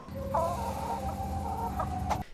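Chickens cluck nearby in a short run of clucks and a drawn-out squawk, clear and fairly loud, then the sound cuts off abruptly; game audio from Fallout: New Vegas.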